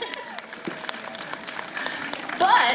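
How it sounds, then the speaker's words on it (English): An aquarium show audience applauding after a dolphin performance, a steady wash of clapping with scattered cheers that swells toward the end. "I think they deserve a round of applause for that."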